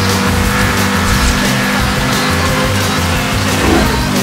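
A race car engine in Need for Speed Hot Pursuit drones loud and close throughout, its pitch stepping up and down with throttle blips and a hint of tire squeal, with no talking.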